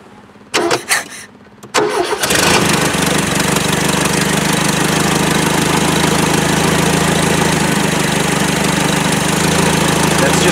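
An old car engine that has sat unused for 17 years cranks a few times, catches and settles into a loud, steady, rough idle close by.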